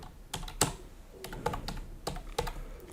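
A password being typed on a computer keyboard, with a quick irregular run of crisp, close key clicks and taps and no talking.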